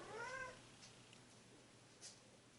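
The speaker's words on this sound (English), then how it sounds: "Apologies if you hear my cat meowing." A pet cat gives a short, clear meow close by indoors, followed by a couple of faint, brief sounds in an otherwise quiet room.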